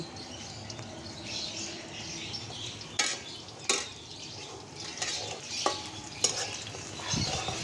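Steady sizzling of onions frying in a pot on a clay stove, broken by a few sharp scrapes and knocks of a spoon stirring against the pot.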